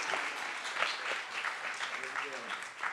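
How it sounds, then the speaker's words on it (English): An audience at a commencement ceremony claps steadily in a large room, a dense, sustained patter of applause with voices talking over it. "Keep clapping."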